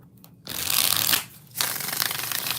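Tarot cards shuffled by hand at close range: two dense riffling bursts separated by a short pause, crisp papery rustle with no talking.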